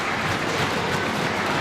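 A wrestling crowd at a live show cheering and clapping for Mike Musso, a dense, steady roar of applause and noise filling the hall, loud and continuous.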